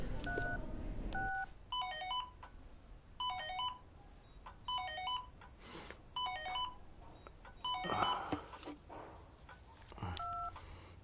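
Tones from a borrowed telephone as a number is dialed, coming in several short bursts of beeps in a row before a ringing tone, close and clear over a quiet room.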